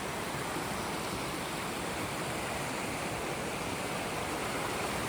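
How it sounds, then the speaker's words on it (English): Janet's Foss waterfall pours in a dense, continuous rushing roar, loud and steady with no breaks or voices. "Just hear the noise of the water."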